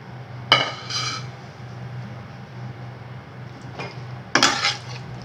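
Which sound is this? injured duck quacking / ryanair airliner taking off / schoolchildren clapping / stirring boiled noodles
stirring boiled noodles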